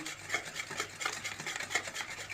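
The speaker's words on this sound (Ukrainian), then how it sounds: "Так, збиваємо. Нам тут міксера не треба в цьому випадку." Biscuit batter of eggs and sugar beaten by hand with a whisk, no mixer, giving a quiet, steady scraping and rubbing rhythm with regular strokes against the bowl.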